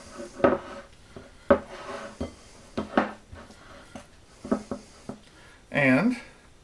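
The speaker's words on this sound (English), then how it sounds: "Then I can just give this one last little stir." Einkorn sugar cookie dough gets stirred in a bowl: a few scraping, clinking strokes of utensil against the bowl, close and intermittent, with a voice talking softly between them.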